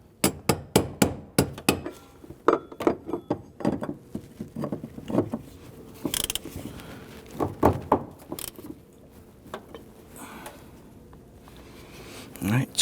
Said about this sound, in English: Use a brass punch, and we're going to try and just kind of get this moving on over.